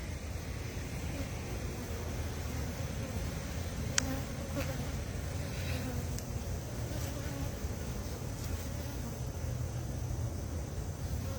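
Honey bees buzz around an open hive, a dense, constant hum of many insects close by with a brief click partway through and no speech.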